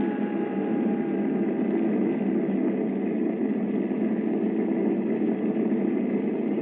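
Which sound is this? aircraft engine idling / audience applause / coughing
aircraft engine idling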